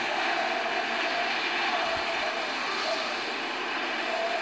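Steady broadband engine roar inside an airplane cabin on board a plane in flight, a constant dense drone with no breaks, loud and close throughout.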